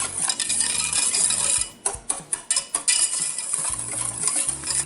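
A utensil stirs a flour mixture for breakfast gravy in a pan, a brisk run of scraping and clinking strokes against the metal over a soft background hiss, close and steady with no talking.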